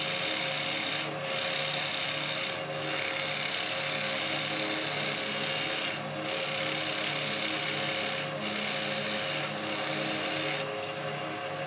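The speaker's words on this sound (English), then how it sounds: "after just a touch of sanding." Steady, close sanding on a wooden taper in long back-and-forth strokes, with brief pauses between passes.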